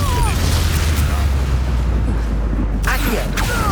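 An Avada Kedavra spell cast in the Hogwarts Legacy video game on PS5, a loud, sustained rumbling magical blast with a heavy low roar lasting several seconds.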